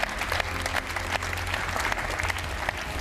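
Sustained applause from fellow sailors and the audience at the Vendée Globe round-the-world yacht race prize ceremony, dense steady clapping filling a hall, with a low hum underneath.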